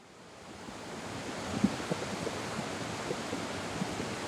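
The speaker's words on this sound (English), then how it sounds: "I think you can hear the sound of the river." A river flows steadily, a broad continuous rushing wash heard outdoors, rising slightly at the start and then holding even, with faint small splashes and some wind on the microphone.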